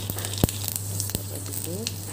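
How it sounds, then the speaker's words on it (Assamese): Panch phoron, a five-spice mix, sizzles in a little hot oil in a karahi, making a steady crackling hiss with a couple of sharp pops over a constant low hum. "এতিয়া মই পাঁচফোৰণ দিছোঁ"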